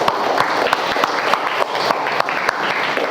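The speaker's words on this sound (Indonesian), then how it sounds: "Tepuk tangan." An audience in a classroom counselling session claps together, a loud, dense burst of hand claps with sharp individual slaps, sustained for about three seconds.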